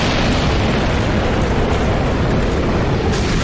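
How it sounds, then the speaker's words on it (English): A fire attack in Dark Souls Remastered, a loud, roaring explosive burst that fills the moment with heavy low rumble and continuous crackling noise. "Oh, that's the fire attack."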